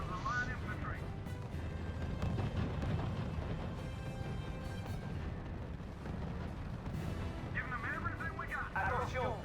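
Heavy artillery fire in the strategy video game R.U.S.E., a dense stream of booms and blasts rolling over game music, with a voice talking over it throughout.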